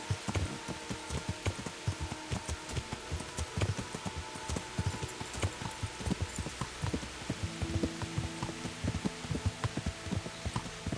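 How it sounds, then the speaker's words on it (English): Rain falls steadily in the medieval game Kingdom Come: Deliverance, a dense patter on surfaces with scattered drop hits and a soft clopping of hooves underneath, with no talk. "It's raining, it's pouring"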